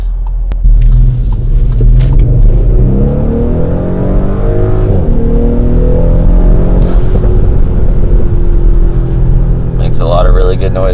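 An Audi B9 SQ5 with traction control off accelerates hard, its engine note rising steadily through the revs with a deep rumble up close and inside the car, voices audible near the end.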